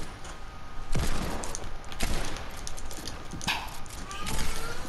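Gunfire in a multiplayer video game, several sharp shots spaced about a second apart over a low background, with players talking around them.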